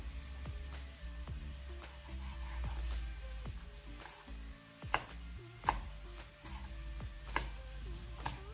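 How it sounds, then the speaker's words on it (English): A knife roughly chops fresh parsley on a cutting board, a steady series of crisp, close taps that grow sharper and more spaced toward the end, with no talking. "I'm gonna just be cutting up my parsley now"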